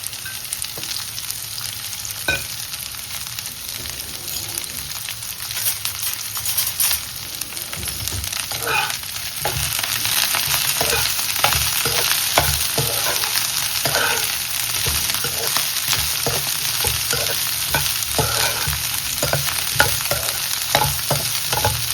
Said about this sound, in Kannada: ಇವಾಗ ಬೆಂಡೆಕಾಯಿನ ಫ್ರೈ ಮಾಡ್ಕೋತಾ ಇದ್ದೀನಿ ಫಸ್ಟು